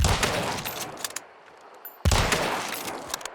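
Karabiner rifle fire in Hunt: Showdown, two separate volleys of sharp, loud cracks with pinging tails, each burst fading before the next begins about two seconds later.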